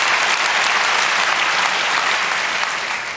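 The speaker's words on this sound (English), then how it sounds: "I appreciate your pandering applause." A conference audience at a hacking talk applauds loudly and continuously, a thick, steady wash of clapping that eases slightly at the very end.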